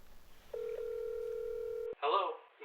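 A telephone tone sounds as a call to the police is placed, holding steady for over a second before cutting off, followed by a brief voice.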